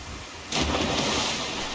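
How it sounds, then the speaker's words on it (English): In the game Final Fantasy XIV, a sudden wash of steady rain-like noise starts after a brief quiet moment, with a low rumble underneath suggesting distant thunder. "It's raining!"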